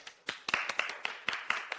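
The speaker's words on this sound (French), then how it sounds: "Applaudissons le courage de Shen Xuman" A handful of people clap sparsely and unevenly for Shen Xuman's courage, about eight distinct claps spread over two seconds, close by and moderately loud.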